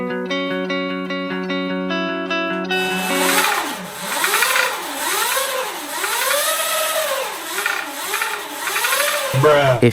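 A ratchet wrench clicks rapidly as the sprocket and brake rotors are swapped on a Sur-Ron electric bike's rear wheel, followed by a whirring electric motor rising and falling in pitch, loud and close.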